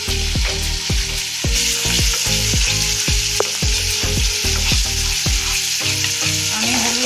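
Red chili powder fries in hot oil for a sweet-sour-spicy prawn curry. A loud, continuous sizzle is punctuated by a rapid, regular series of metallic clinks that sound like a spoon or spatula tapping against the pan.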